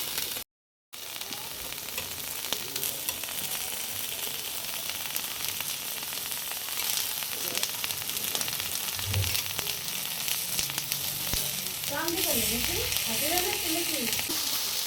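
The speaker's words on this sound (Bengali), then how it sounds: "একটা পিঠ বোধহয় ভাজাটা ভালো মতন হয়ে গেছে" Prawn paturi wrapped in bottle gourd leaves fries in an oil pan with a steady close sizzle that runs the whole way through. Brief soft stirring and shuffling sounds sit on top, with no speech.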